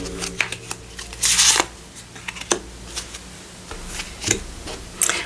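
Oracle cards are shuffled by hand in close, crisp bursts of riffling and flicking, with several short rustles and taps separated by brief pauses.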